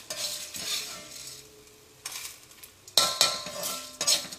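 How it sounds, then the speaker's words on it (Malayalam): A spoon stirs roasted chana dal, toor dal and asafoetida in a pan for Kerala sambar, giving a few close metallic scraping strokes over a faint sizzle, with quieter gaps between. "എല്ലാം കൂടിയിട്ട് ഒന്നുകൂടി ഒന്ന് മിക്സ് ചെയ്യും"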